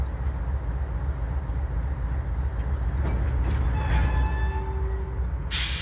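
Heavy rumbling of a CSX freight train at close range as slack is stretched from the couplings, with clanking and squealing metallic tones around the middle and a hiss of air near the end.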